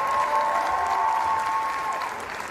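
Applause from a music festival audience for a performing group, a steady crowd clapping throughout with a faint sustained tone ringing underneath, tapering slightly at the end.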